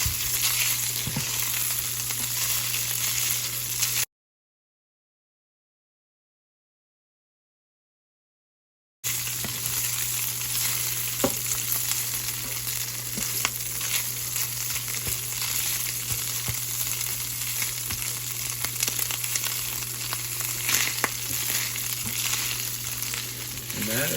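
Ground pork frying and browning in a skillet, a steady close sizzle with faint crackles and occasional stirring clicks, cut by a few seconds of silence partway through.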